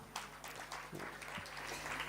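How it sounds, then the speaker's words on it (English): A seated audience at a formal 2023 census report launch gives a round of applause, a steady patter of many hands clapping, faint and distant, with a few louder individual claps. "All right, another round of applause."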